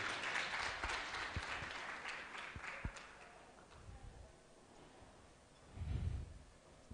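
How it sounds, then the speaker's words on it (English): An audience at a Women & Girls in Cyber event in Lilongwe applauding a presenter, dense clapping that starts strong and fades over several seconds, with a brief low rumble near the end. "A round of applause for Titi, please."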